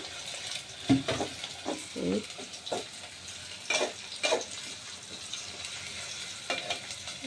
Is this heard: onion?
yes